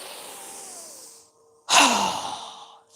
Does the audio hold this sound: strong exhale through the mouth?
yes